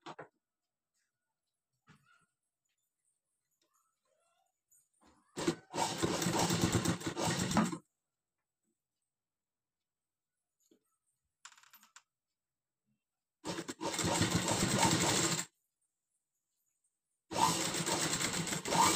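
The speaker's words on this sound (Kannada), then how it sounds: "ಇಲ್ಲಿ ಅದ್ರ ಮೇಲೇನೆ ನಾವು ಸ್ಟಿಚ್ ಹಾಕ್ಕೊಳ್ಳೋಣ." Sewing machine stitching cloth, heard in three separate bursts of rapid whirring lasting about two to three seconds each, fairly close, with silences between and a faint brief tap in one gap.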